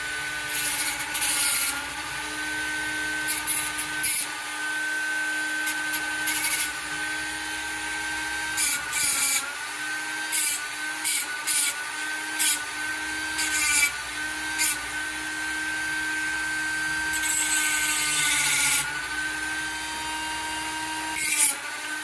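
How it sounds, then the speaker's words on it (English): A small Ryobi rotary tool whines steadily as it grinds knife scale pins to a point, its high drone rising and falling with repeated bursts of gritty scraping against the metal. "I'm just using my little Ryobi Dremel thingy here to just kind of put a point on them"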